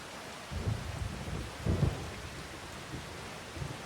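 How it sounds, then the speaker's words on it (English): Rain and rolling thunder in the video game Farming Simulator 25: a steady rain hiss with two deep thunder rumbles swelling and fading, then a fainter one later, no speech. "It's raining."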